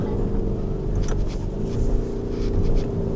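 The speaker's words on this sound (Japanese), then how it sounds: "この V8 みたいな音いいじゃないですか。" A Lamborghini Urus SUV's V8 engine driven in manual mode, holding a steady, full-bodied drone with a deep low rumble that stays loud and even throughout, no voices over it.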